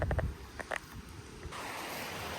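River water rushes in a steady, broad wash, close to the microphone, after a few brief knocks and handling noises at the start.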